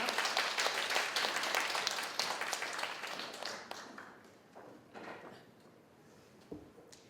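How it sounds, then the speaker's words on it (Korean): Congregation applause at a Japanese-language church service, welcoming a sermon: dense clapping from many hands that fades out over several seconds, leaving a quiet room with a few scattered taps. "우리 탁월한 일본어 설교를 박수로 환영해 보도록 하겠습니다"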